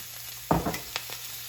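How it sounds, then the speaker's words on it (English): Butter, onions and mushrooms hitting a pan for caramelized Brussels sprouts, one brief burst of sizzle followed by a couple of quick stirring clinks, close and short over a low steady hiss. "I will go in with a little butter, my onions and mushrooms"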